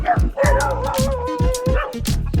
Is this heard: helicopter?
no